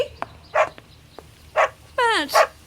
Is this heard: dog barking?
yes